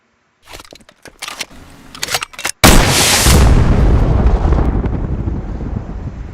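Animated gunfire opens with a few sharp, separate cracks, then one huge blast erupts into a sustained roaring rumble that slowly fades. It is loud and close, with no talk over it.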